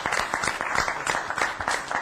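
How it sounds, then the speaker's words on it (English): Audience at a town council meeting claps steadily with dense, rapid, overlapping claps throughout, fairly close and even in loudness. "And normally we don't let you applaud"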